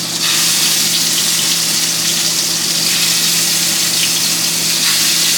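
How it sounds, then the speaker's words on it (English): Pre-seasoned scallops sear in a hot pan, pan-seared five at a time, giving a loud, steady, close sizzle and crackle that runs unbroken with no talking over it. "When you hear that sizzle"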